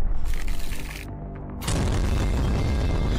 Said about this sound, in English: That would be such a huge explosion.